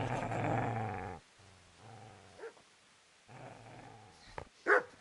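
A dog growls and barks aggressively in the video game Kingdom Come: Deliverance, with a sustained low growl breaking into sharp, separate barks. The sounds are close and loud, with no talk over them.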